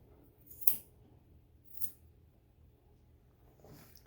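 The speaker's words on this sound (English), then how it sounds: "just kind of get in there with the scissors" Three soft scissor snips, spaced a second or more apart, close and quiet against a faint background with no talking.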